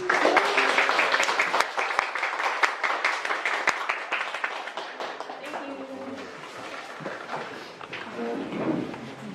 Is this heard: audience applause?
yes